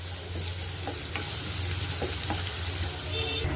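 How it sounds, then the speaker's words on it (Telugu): Green chillies, curry leaves and ginger garlic paste fry in hot oil with a steady close sizzle, and a few scattered clinks and scrapes of stirring run over it. "ఒక ఆరు వరకు పచ్చిమిర్చి తరిగి పెట్టుకున్నాను అవి వేసుకుంటున్నాను కరివేపాకు వేసుకుంటున్నాను ఒక స్పూన్ అల్లం వెల్లుల్లి పేస్ట్ వేసుకోవాలి"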